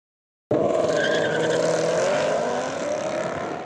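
Drag racing cars at Tucson Dragway during a street racing event. After half a second of silence, a loud, close engine roar bursts in and holds with a whining, harmonic-rich tone that eases slightly toward the end.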